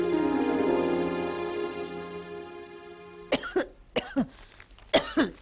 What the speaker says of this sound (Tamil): வெறும் வரட்டு இருமல் தான்